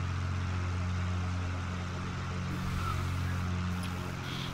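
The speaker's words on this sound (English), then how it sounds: "when you're pulling your mixture back, just listen to the engines" The twin piston engines of a Beechcraft Duke B60 in FSX drone steadily, a close, continuous hum with a low throb and no voices over it.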